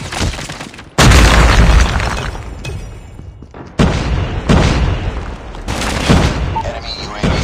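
Semtex grenade blasts in a first-person shooter ranked match: loud, booming explosions with rumbling decay, several heavy hits in succession amid gunfire-like bursts and game voice callouts.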